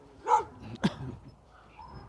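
A bull terrier near other dogs gives a couple of short, fairly close barks followed by soft whimpering yips, with quiet background noise between them.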